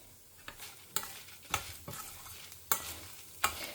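Cinnamon and cloves roasting lightly in a pot with Guntur chillies and curry leaves, a spoon clinking and scraping at irregular intervals over a faint sizzle, close and fairly quiet with no voices.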